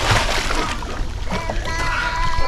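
A person plunges into the cold, shallow sea at Maya Bay, Thailand, producing a steady broadband wash of splashing and sloshing water that fills the whole moment at close range.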